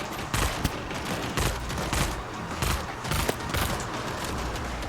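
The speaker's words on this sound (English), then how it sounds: "just try and shoot a couple here and there" Gunfire from shooting zombies in the World War Z video game, New York section, with bursts of rapid shots repeating every second or so over a dense, loud background.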